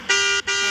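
A car horn in a car video game gives two short, loud, bright honks separated by a brief gap, with nothing else heard.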